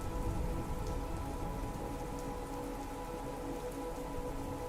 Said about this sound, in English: And y'all start to feel the rain come down